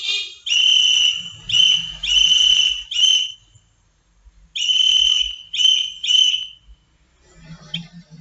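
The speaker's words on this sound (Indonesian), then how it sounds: "Berikut ini contoh benda yang dapat menghasilkan bunyi dengan cara ditiup" A shrill whistle blows in a series of sharp blasts, two groups of short and long toots separated by a brief pause, loud and close.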